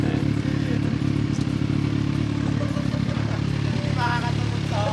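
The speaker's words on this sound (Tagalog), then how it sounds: "pinapakiramdaman nyo yung tunog ng makina." A big-bike motorcycle engine idles loudly up close with a chugging, throbbing rumble and slight revs, while a voice talks over it.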